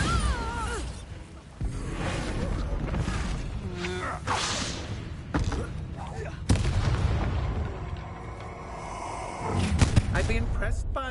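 Bombarda spell explosions in Hogwarts Legacy combat: sharp booming blasts and whooshing bursts, loudest near the middle and end, set in a dense game soundscape with voices speaking throughout.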